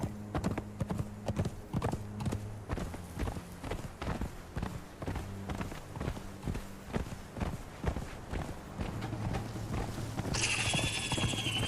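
Steady clip-clop of horse hooves from a mounted rider crossing sandy desert terrain in the game Conan Exiles, with an even walking rhythm under a low ambient drone and a brighter tone rising at the end.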